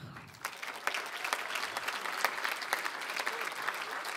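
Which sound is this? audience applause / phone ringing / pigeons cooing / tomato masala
audience applause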